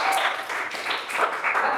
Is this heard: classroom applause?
yes